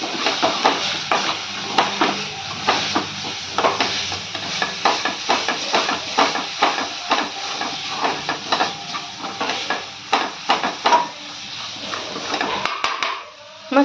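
Chana masala spices being sautéed with onion in a pan, giving a steady close hiss and sizzle broken by frequent scraping and clinking strokes of a spoon against the metal, with no voices.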